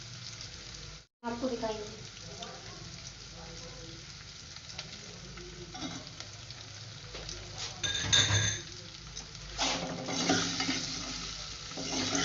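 Green chilies go into a pan with arvi (taro root) and sizzle and fry as they are stirred, with a steady crackle and scraping, a brief silent gap near the start and someone speaking softly over it.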